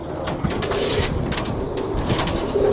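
A pigeon coos softly and repeatedly at close range, low throaty calls in a gentle rhythm over a light background rustle, with no talking.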